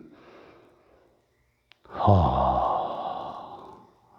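A single forceful exhale from a breathing exercise for heart, lung and bronchial recovery, a loud breathy rush after a brief pause, sustained for about two seconds and fading out.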